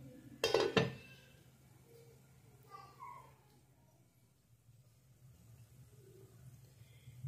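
A metal lid clanks down onto a pot of black chickpea curry in a couple of quick, close clinks, followed by faint kitchen rustling and quiet background sounds.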